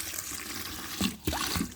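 Water splashes and gurgles into a homemade fertiliser mix made with snails, a close, fairly loud liquid rush with a couple of brief surges and no speech.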